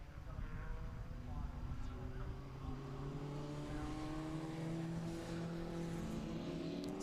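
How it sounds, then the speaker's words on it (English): A BMW M3 race car in the SW Motorsport Club Sport Trophy at Snetterton charges down the pit straight, its engine note climbing steadily in pitch as it accelerates hard, loud and continuous. "the pace that BMW's got, just watch it charge away down the pit straight"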